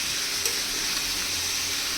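Liver and potato pieces stir-frying with spices in a pan, a steady hissing sizzle with faint scraping of the spoon, no voices.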